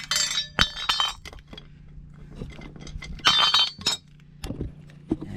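A small screwdriver pries at a metal dust shield on a Chevy/GMC 2500/3500 front suspension, giving close, sharp metallic clinks, scrapes and rattles in irregular bursts.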